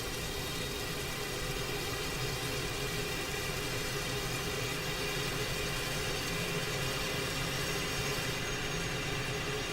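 A helicopter engine idles in a flight simulator video game, giving a steady, even hum and whine of turbine noise that holds unchanged throughout, fairly quiet and with no talking.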